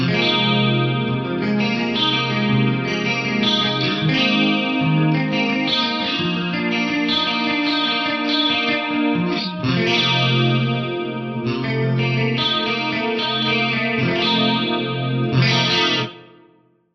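Electric guitar run through a parallel pitch detune effect, giving a lush, shimmering 80s chorus-like tone; sustained chords ring loud and alone for about sixteen seconds before cutting off.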